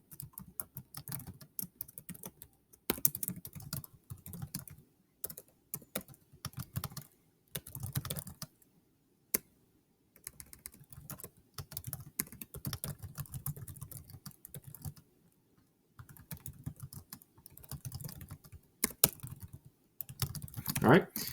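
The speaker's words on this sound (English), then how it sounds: "So I'm going to type in the instructions." Instructions typed on a computer keyboard into a course web page editor: quiet, irregular bursts of clattering keystrokes separated by short pauses.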